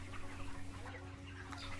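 Farm chickens cluck in a poultry shed during feeding and watering, a steady low murmur of hens with scattered soft clucks close by under a constant hum.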